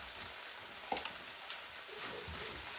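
Sloppy joe sauce heats over medium flame in a skillet, making a faint, soft, steady sizzle. A few light clicks from a utensil sound close by.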